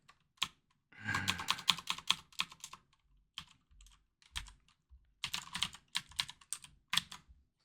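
Code typed on a computer keyboard: quiet, close key clatter in quick bursts and short runs of keystrokes separated by brief pauses.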